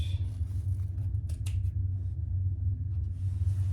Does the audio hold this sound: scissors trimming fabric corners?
yes